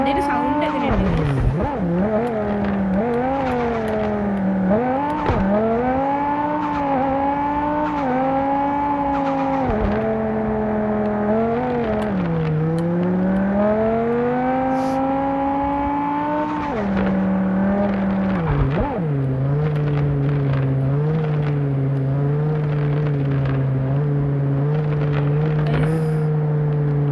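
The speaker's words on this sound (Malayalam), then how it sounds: "വണ്ടിയുടെ സൗണ്ട് എങ്ങനെയുണ്ട് ഗേസ്?" A newly bought car's engine hums under the driver, its tone rising and falling with the throttle through several swells before settling into a steady, even drone while cruising on a small road.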